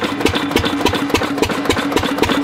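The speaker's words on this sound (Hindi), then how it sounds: "हमारे उस डीजल से इंजन स्टार्ट हो चुका है" A diesel engine idles steadily on a homemade B30 biodiesel blend, its even, rapid chugging knock close and continuous with a faint hum running underneath.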